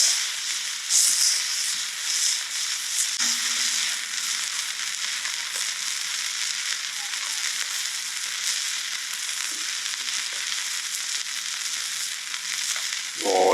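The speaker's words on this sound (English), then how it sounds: "It's a bit flambéed. The bacon fat on the steak." Steak sizzling in bacon fat in a pan while being flambéed, a steady loud crackling and hissing fry with scattered pops, running continuously and unaccompanied.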